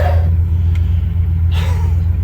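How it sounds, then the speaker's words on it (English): A car engine idles close by at about 180, a loud low steady rumble with a faint throb and small hisses over the top. "let her run a little bit. She's idling right there up to, what's that, 180."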